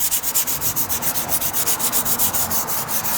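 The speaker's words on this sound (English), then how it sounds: "Just kind of rolling the sandpaper." A wooden window sill is hand sanded with 120-grit sandpaper, steady back-and-forth rubbing strokes repeating in a quick, even rhythm, close and fairly loud throughout.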